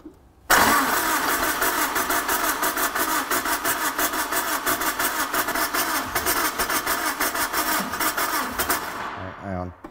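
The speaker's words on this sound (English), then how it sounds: "can you do the honours and crank it?" A Ford Escort MK1 engine is cranked by its starter in a steady, loud, continuous churning for about nine seconds without catching, then the cranking stops. Voices talk over it.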